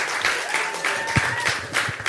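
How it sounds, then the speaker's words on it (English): A small crowd at a cocktail-hosting event claps and cheers, brisk close applause with a few loud individual hand claps and some whoops mixed in, heard alone without speech. "Round of applause."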